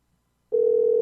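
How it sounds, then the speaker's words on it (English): A steady telephone dial tone comes in abruptly after half a second of near silence and holds loud and unbroken while a call is placed, with no one speaking. "Okay, we're calling Miss Liz"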